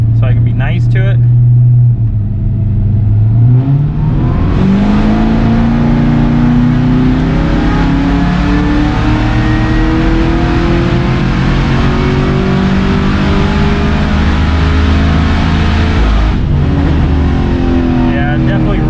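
A Cadillac CTS-V's engine pulls hard on a dyno, a loud sustained rev rising steadily in pitch for about fifteen seconds after a brief idle, then dropping off abruptly.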